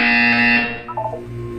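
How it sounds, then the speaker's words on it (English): A loud buzzer in the video game Portal 2, a sustained harsh electronic tone with dense harmonics that cuts off after about half a second, followed by a few fainter synthetic tones. "You will hear a buzzer"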